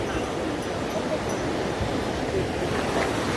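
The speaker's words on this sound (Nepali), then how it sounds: "र साथमा तामाकोसी नदी।" The Tamakoshi river rushing steadily along a trek route in the Gaurishankar Conservation Area, a broad continuous roar of water with wind noise, close and loud throughout.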